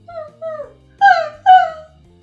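A dog whimpers and cries close by, four drawn-out whining notes: two softer ones followed by two louder, higher cries, with no one speaking.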